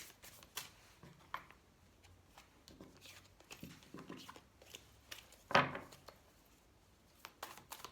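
Tarot cards being shuffled by hand nearby, with soft riffling bursts and brisk flicks, one sharper snap in the middle, otherwise quiet.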